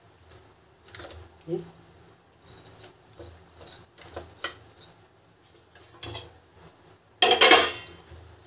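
A spoon mixes semolina appe batter after baking powder is added, giving soft repeated scraping and clinking strokes against the bowl, with a louder burst of stirring near the end and a brief spoken word.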